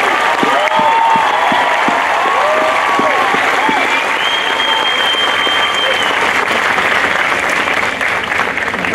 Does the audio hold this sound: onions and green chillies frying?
no